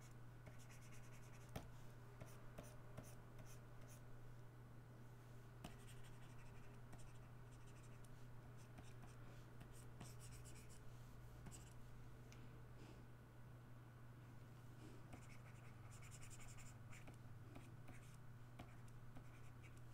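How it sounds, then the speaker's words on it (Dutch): A pencil drawing on paper, giving a steady, soft, continuous scratching with quick strokes and light taps, close up and uninterrupted by any voice. "soms werkt het eigenlijk met een gewone potlood en papier"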